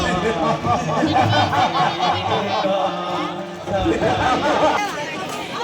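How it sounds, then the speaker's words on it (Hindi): Crowd babble fills the grounds of the Ramlila fair in Pithoragarh, with overlapping voices, some chuckles and close talkers standing out against the general hubbub. "भीड़ काफ़ी ज़्यादा हो रखी है"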